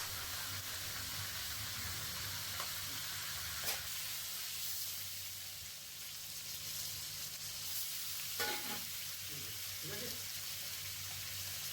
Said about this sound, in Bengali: তারপর মাথাটা ভেজে নেব।